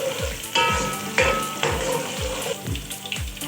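Onion, ginger-garlic paste and green chilli fry in hot oil in a pan for beef yakhni pulao, a close, loud sizzle broken by regular scraping stirs roughly every half second.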